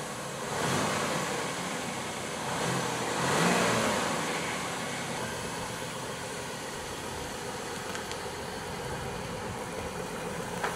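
A 1995 Oldsmobile 88 with the 3.8L V6 runs steadily on a test drive, a moderate engine drone with road and wind noise and a couple of mild swells in revs early on.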